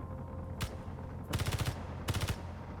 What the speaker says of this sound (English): Oh, the mine's shooting it.